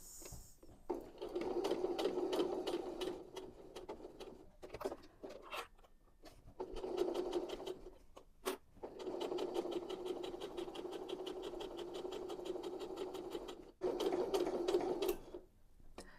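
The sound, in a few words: sewing machine stitching fabric scraps with back stitch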